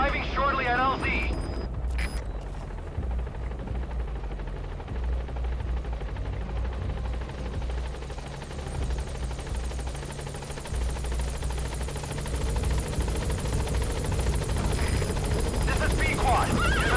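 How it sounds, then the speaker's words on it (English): A support helicopter arrives in the video game Metal Gear Solid V, its loud rotor and engine roar droning continuously and swelling slightly toward the end, after a brief burst of other game sounds at the start. "Support helicopter has arrived."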